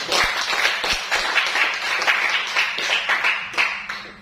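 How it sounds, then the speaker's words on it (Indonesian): A classroom of students applauds together during a mathematics lesson, a close, busy patter of many hands clapping steadily for about four seconds. "Tepuk tangan untuk kita semua."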